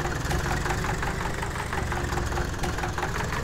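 A Zetor two-cylinder tractor engine in Farming Simulator 18 idles with a steady, loud, knocking chug that pulses evenly throughout, alone without voices.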